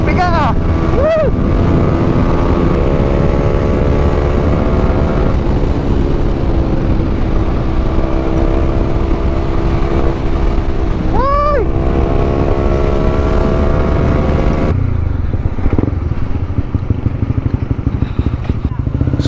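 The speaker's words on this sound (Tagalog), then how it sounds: "Ito yung literal na one last ride sa ating CB150X." A Honda CB150X motorcycle rides at speed with a steady engine drone, rising whines as it shifts through gears, and heavy wind rush. It eases off near the end.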